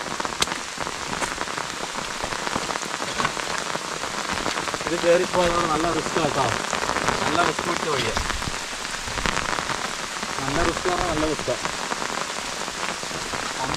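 Steady rain patters on surfaces all around, including an umbrella the speakers stand under, on a hill trail near Alakode, Kerala, while a person talks over it.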